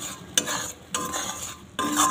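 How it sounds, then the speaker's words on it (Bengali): A spoon stirring spices in a sizzling pan for chana dal with bottle gourd, three or four scraping sweeps separated by short pauses over a steady fry, close up, no talking. "সব মশলাগুলো দিয়ে একটু নাড়াচাড়া করে নিচ্ছি"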